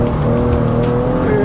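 A Porsche 911 driven hard on a wet, slippery race track, its engine roaring loud and steady throughout with a constant drone and a faint tire squeal near the end.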